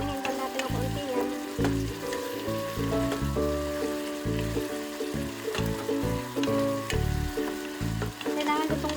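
Tomatoes fry in a pan with a constant close sizzle and crackle, with some faint tonal sound in the background throughout.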